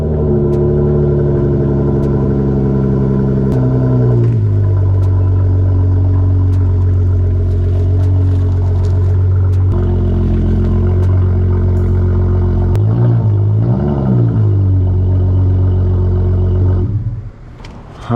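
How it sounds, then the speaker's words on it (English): A car's engine idling and running steadily as it is moved, a loud low hum with a slight rev shift partway and some clatter near the end, no speech. "I'm gonna go ahead and move my car real quick"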